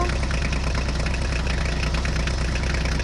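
Toy mini tractor engine running, a continuous buzzing motor drone with steady even loudness and no talk.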